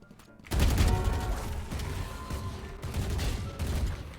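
Dense, continuous gunfire from the Valorant video game, with rapid overlapping shots and booming bursts that stay loud and close throughout, no voices over it.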